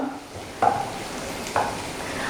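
Onions with turmeric powder and green chillies being sautéed in a pan, with a soft steady sizzle and two distinct stirring scrapes of a spatula against the pan.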